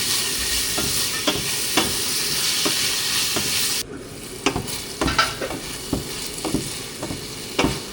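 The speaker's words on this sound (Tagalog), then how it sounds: "Yung kamatis, lulutuin natin ng lutong-luto." Tomatoes fry in a pan with a steady broadband sizzle, while a utensil stirs and scrapes them in repeated sharp knocks; the hiss drops back partway through, leaving the clinking stirs clearer against a quieter fry.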